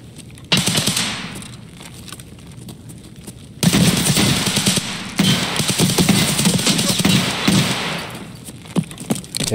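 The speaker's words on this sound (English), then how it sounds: "Okay, I shot him up" Bursts of automatic gunfire in the video game Escape From Tarkov, a short volley first and then a longer, louder stretch of rapid shots that fill most of the clip.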